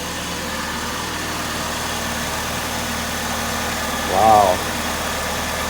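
A 2001 Saturn SC2 engine, cold and freshly tuned up, idles with a steady, smooth mid-low drone close by, while a voice briefly exclaims partway through.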